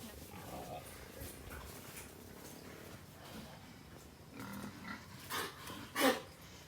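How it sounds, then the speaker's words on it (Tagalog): Large market-weight pigs are unloaded at a farm, with a rough, noisy bustle of grunts and shuffling and a sharp squeal near the end, while people talk over the activity. "mag-start pa lang sila magbaba ng baboy ito yung mga tinatakan namin na pula"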